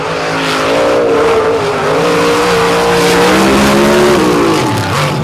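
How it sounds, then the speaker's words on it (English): Ford race trucks roar along a beach course in a loud, sustained pass, the engine pitch rising and falling as they race side by side. "Pair of Fords, the heavyweight on the ocean side, the lighter weight PEI here on the land side, and Snyder has not been able to get past hi"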